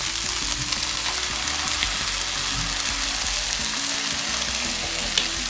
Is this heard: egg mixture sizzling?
yes